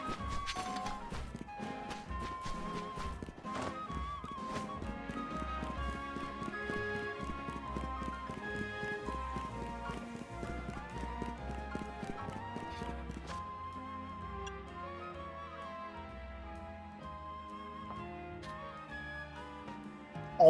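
Horses gallop in the video game Pokémon Legends Z-A, rapid clip-clop hoofbeats under layered game music, fairly quiet and continuous.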